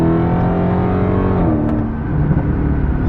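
A car engine in a 700 horsepower mode accelerates close by, a loud, sustained rising drone whose pitch shifts partway through, then settles into a rough, steady roar.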